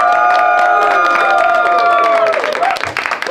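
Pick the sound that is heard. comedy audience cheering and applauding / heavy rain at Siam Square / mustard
comedy audience cheering and applauding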